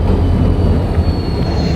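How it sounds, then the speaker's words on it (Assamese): A train arriving at a station gives a loud, steady low rumble with rolling mechanical noise up close, continuous and without a break, no voices. "এইখন ট্ৰেইন আহিছে"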